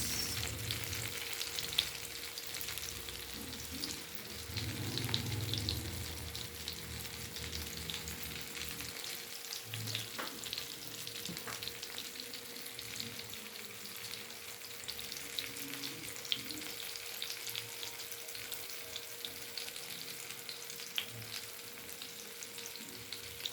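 An eggplant omelette with tomato and onion fries in a pan over raised heat, giving a soft, even sizzle that runs unbroken for the whole stretch at a low, close level.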